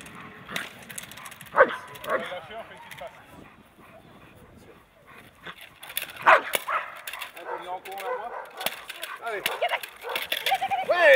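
Dogs bark in short loud bursts and yips during bite-work ring training at a French dog club, the barks spread across the scene with people talking between and over them.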